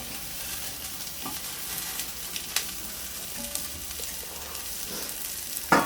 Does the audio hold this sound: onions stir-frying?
yes